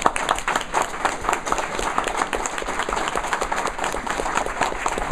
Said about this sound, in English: I want to personally give a round of applause to all of us.